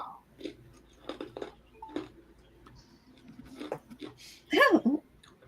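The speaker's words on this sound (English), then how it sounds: "Are you crunching your ice?" Someone crunches ice in a few close, crisp bites scattered between quiet stretches, with the loudest crunch near the end. A voice speaks intermittently.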